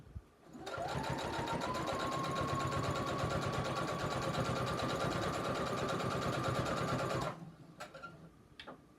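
Sewing machine running steadily for about six and a half seconds, reinforcing a stitch at the corner of a pocket on a beach tote, close and loud with a fast even whir, then stopping, followed by a few light handling clicks.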